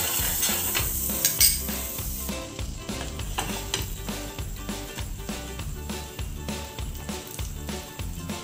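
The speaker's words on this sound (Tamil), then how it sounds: "அடுப்பில் ஒரு பேன் வச்சு கொஞ்சமாக பட்டர் விட்டு நம்ம பர்கர் பன்னை டோஸ்ட் பண்ணி எடுத்துக்கலாங்க" Burger buns toast in butter in a pan on the stove, with a steady sizzle running throughout and clinks of a utensil scraping and turning them, close and busy, with no talk.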